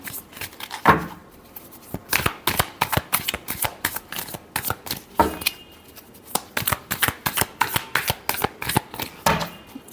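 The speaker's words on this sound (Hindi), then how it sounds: "last shuffle" Tarot cards being shuffled by hand in a rapid, steady run of crisp riffling flutters and soft slaps, close and moderately loud, with no talking.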